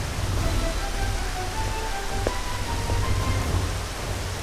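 Steady rain falls in an animated Miraculous Ladybug scene, a dense hiss of rainfall with a low rumble underneath and faint tonal sounds running through it.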